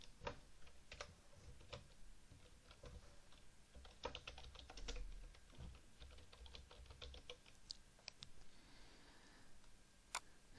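Fingers type English text on a computer keyboard in CorelDraw design software, producing steady, fast key clicks with a few louder taps, close and quiet in a still room.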